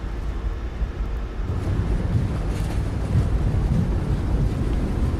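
Thrust reversers on an iFly 737 MAX 8 landing in Microsoft Flight Simulator 2020, a steady, loud low roar of engine and rushing air that swells slightly, with no talking.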